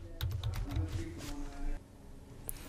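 Quick typing on a computer keyboard, a short run of close clicks and taps, over a faint background hum.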